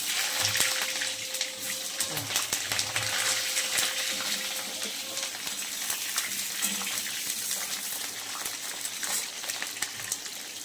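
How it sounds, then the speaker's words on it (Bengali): Potatoes for a chicken curry frying in hot oil in a pan, a steady broadband sizzle and crackle that runs throughout, with faint clatter and a brief background hum. "তেল বসিয়ে দিয়েছি এবার মাংসের আলুটা ভেজে নেব আমি"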